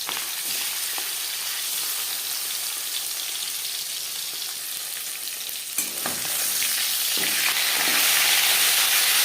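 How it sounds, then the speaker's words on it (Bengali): Rohu fish head and pieces frying in hot mustard oil, a loud, steady, dense sizzle that swells even louder in its final seconds, with a few clinks as the fish is moved and no voices. "চার চামচ সরষার তেল গরম করে নেওয়ার পর দিয়ে দেবো মাছের মাথা"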